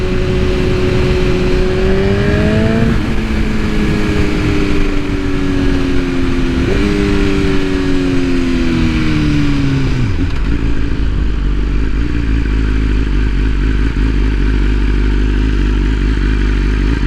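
A 2022 BMW S1000RR with a Stage 2 Brentuning tune and air filter revs while riding, its engine whine climbing in pitch through gears, then dropping sharply as the bike slows to a deep, loud idle rumble.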